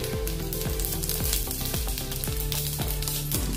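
Asafoetida hits hot oil in a pan, giving a steady close sizzle and crackle with a repeating rhythmic clatter running underneath.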